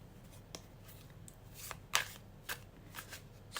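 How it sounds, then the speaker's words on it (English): Tarot cards being handled and drawn from decks: soft close shuffling and sliding card sounds with a few sharp snaps and taps, faint and intermittent. "let's pick up your tarot decks, and we will be taking"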